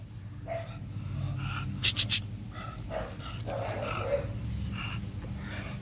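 Two young male bully dogs scuffle for dominance with low growls, snorts and brief sharp yelps, close and moderately loud over a low rumbling background.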